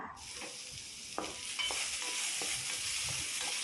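Onions and tomatoes sauté in a hot pan for chayote chutney, giving a steady close sizzle with occasional stirring scrapes and clicks and no talk.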